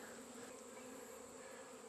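A swarm of bees hums steadily around a hive box, a dense, continuous buzz of many wings with no breaks and no voices.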